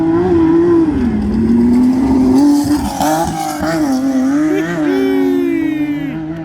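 A race car screams past at the Finke Desert Race in the Simpson Desert, a loud, high-pitched engine note that holds steady, then climbs and falls through several gear changes as it nears and pulls away.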